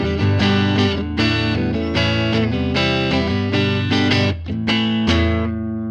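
An electric guitar played through a Line 6 Helix Bassman amp model with a stack cabinet, ringing sustained chords and notes with a slightly driven, full tone, loud and alone for several seconds.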